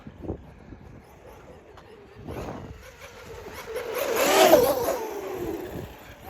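A Traxxas Sledge RC monster truck drives around to warm up its tires, its electric motor whining as it rises to a loud, close peak and then fades away, with a brief voice at the start.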